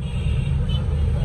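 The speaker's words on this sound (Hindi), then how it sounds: "यहाँ से ट्रैफिक देख लें" Road traffic flows through the FC College underpass in Lahore, with motorcycles among the vehicles: a steady, loud low rumble of engines and tyres that runs throughout with no pauses.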